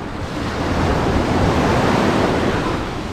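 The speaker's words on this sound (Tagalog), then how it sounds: "may alon na eh" Waves wash continuously on a river, a broad steady rushing roar with wind noise on the microphone and no voices.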